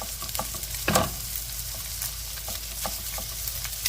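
Cooked rice for Singapore fried rice sizzles and is tossed in a hot pan, a steady close frying hiss with repeated scraping stirs and one louder clatter early on; no talk.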